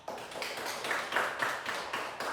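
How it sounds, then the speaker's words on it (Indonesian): Pupils in a primary school classroom clap for a classmate after a poetry reading lesson, a steady patter of small hands that runs for a couple of seconds at moderate loudness. "Tepuk tangan untuk Terence."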